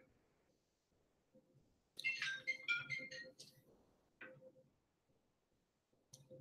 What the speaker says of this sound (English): That sounds like my ring in my office